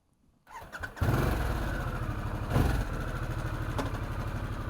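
A motorcycle engine cranks and fires up, then settles into a loud, steady, throbbing idle close by.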